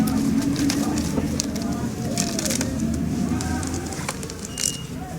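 Australian doves coo softly against a steady background hum in a home setting, with a few faint calls scattered through and a voice speaking at times.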